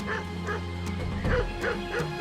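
Hunting dogs on an island yelp and bark in quick repeated bursts, fairly close and moderately loud, with no voices.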